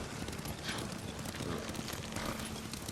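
Horse hooves clip-clop steadily while riding in the video game Ghost of Tsushima, a continuous mid-loud gait blended with game ambience.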